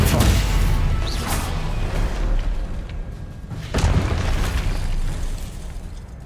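Spell impacts and magical blasts from Hogwarts Legacy, the Stupefy stun spell among them, land as loud booming bursts with whooshing tails, several heavy hits over continuous combat noise.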